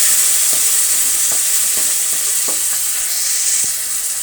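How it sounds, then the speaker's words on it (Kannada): Tamarind pulp frying in a pan for puliyogare gojju, a loud, continuous hiss of sizzling oil with a handful of light, evenly spaced taps from stirring. "ಹುಣಸೆ ಹುಳಿನ ಬಿಡ್ತಾ ಇದ್ದೀನಿ. ಹುಣಸೆ ಹುಳಿ ಚೆನ್ನಾಗಿ ಫ್ರೈ ಆಗಲಿ."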